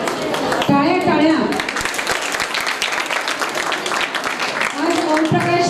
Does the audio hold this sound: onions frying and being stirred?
no